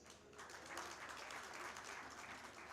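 Audience applause at a signing ceremony during a trade fair event in Algiers, a steady wash of clapping from a large crowd that carries evenly from start to finish, heard at a moderate distance.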